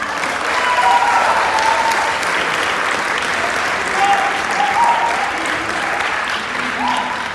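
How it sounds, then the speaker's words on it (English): Sustained applause fills a banquet hall as a track and field team honors its award nominees, a steady wash of clapping that swells slightly at moments, with voices calling out faintly beneath it. "please stand up and clap"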